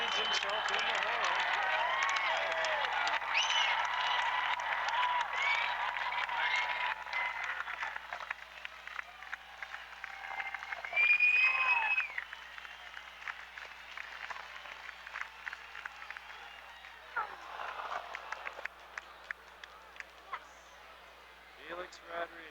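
Baseball stadium crowd roaring and applauding at a strike-two pitch with Felix Rodriguez facing McGuire, a dense wash of cheering that thins into scattered claps and murmurs, with a commentator talking over it.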